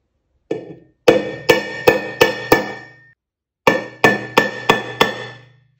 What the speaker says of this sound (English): I'm going to use just a nail and a hammer to put a little divot in there